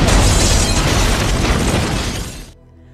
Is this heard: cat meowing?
no